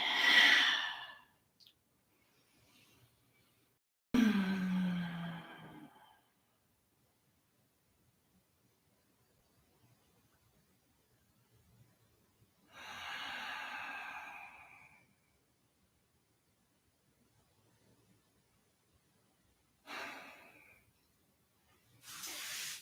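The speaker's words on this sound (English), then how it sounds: "Deep breaths, everybody." During a yoga session, several slow, deep breaths are heard as separate breathy exhalations with long quiet gaps between them, close and fairly soft.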